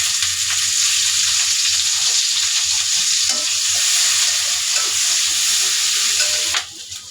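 Onion and chili frying in hot oil for a hilsa fish and pumpkin chorchori, a loud steady sizzle with occasional scraping stirs, dropping off abruptly near the end.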